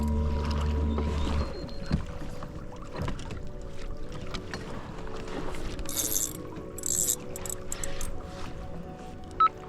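A small boat trolls slowly under motor on Hawaiian water, a low steady engine drone with water wash and a few brief splashy bursts, no talking.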